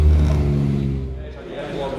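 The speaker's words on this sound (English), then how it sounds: "They have Yamaha 1100cc engine in it, so motorcycle engine, and they go really fast" A race car powered by a Yamaha 1100cc motorcycle engine revs loudly and close during a 24-hour race, with a steady droning engine tone that gradually fades as voices and crowd babble carry on underneath.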